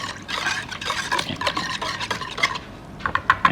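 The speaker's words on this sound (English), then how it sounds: "I'm just gonna give that a little whisk to blend those amazing flavors" Bistek marinade with minced garlic being whisked briskly in a bowl, a rapid run of light liquid swishes and small clinks over a few seconds, close and without speech.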